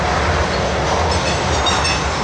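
A freight train hauled by NS, CSX and BN EMD diesel locomotives rolls past close by, a loud continuous rumble and roar of wheels and rail noise throughout.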